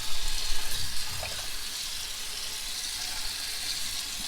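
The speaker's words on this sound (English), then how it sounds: "So you want to start rinsing it from the clean side is what I'll call it." Warm tap water runs steadily over a Toyota 4Runner air filter being rinsed at a sink, a continuous hissing splash held at an even, moderate level throughout with no voices.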